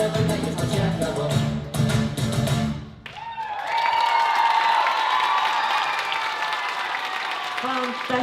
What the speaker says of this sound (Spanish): Fantastiline ja publiku aplaus räägib enda eest